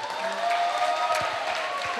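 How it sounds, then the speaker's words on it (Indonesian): Applause from a campus seminar audience at UKI, a steady mid-level patter of clapping with a few scattered heavier claps. "Tepuk tangan untuk UKI."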